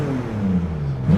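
A RUF CTR3 with nearly 700 horsepower in a VR racing game hums steadily at low revs, its engine droning close and loud before picking up slightly at the end.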